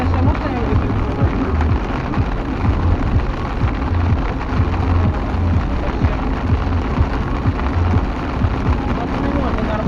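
Heavy rain pouring in a squall with strong gusting wind at Razdolnoye near Kakhovka, a dense, loud continuous rush with low rumbling, and people talking faintly underneath.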